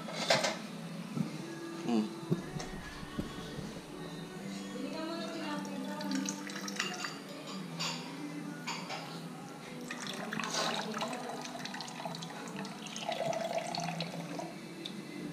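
A water tap runs in a home kitchen, a faint steady trickle and splash heard at close range under intermittent talk and household clatter.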